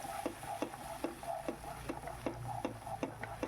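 Mustard paste masala sautéing in oil for a drumstick recipe, stirred with a steady, rhythmic scraping tick against the pan over a faint sizzle, quiet and close.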